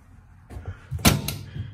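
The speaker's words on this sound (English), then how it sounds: "Then we got the 2 fuel doors" A fuel door on an enclosed four-place snowmobile trailer from Blizzard Manufacturing swings and shuts with one sharp close slam, preceded by soft handling rattles and followed by a faint echo.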